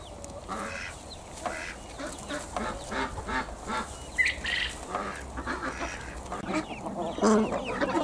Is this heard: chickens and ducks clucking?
yes